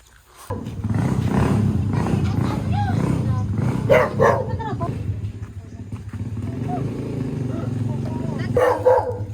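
A dog barks a few times outdoors in a rural province near a water spinach field, heard amid loud, constant talking and background noise.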